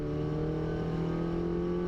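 Steady, loud in-car drone from a 2018 Mini Cooper S race car in a circuit race at Snetterton, the engine holding a sustained harmonic buzz with no distinct blips, heard without talk.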